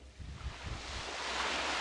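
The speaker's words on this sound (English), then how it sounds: "We've got the ocean." Ocean waves on a music recording, a broad steady wash of surf that swells and holds loud throughout, with low rumbling swirls underneath and no voices.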